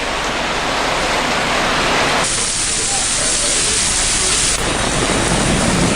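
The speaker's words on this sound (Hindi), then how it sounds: "बारिश की ये तस्वीरें दिल्ली के आरकेपुरम, मंडी हाउस और पांडव नगर की हैं, जहां तेज बारिश हो रही है।" Heavy rain pours down on Delhi streets as a dense, loud, unbroken hiss with no talk, its texture shifting abruptly twice as the scene changes between locations.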